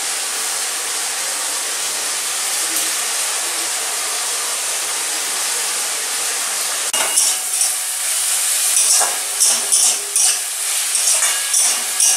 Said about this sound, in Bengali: সবজিটা ভালোভাবে কষা হয়ে গেছে।